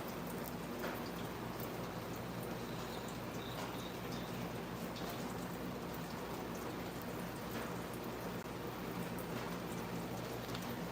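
Steady rain falls in Kingston as a soft, constant hiss with faint patters of drops, spread evenly and unbroken with no talking.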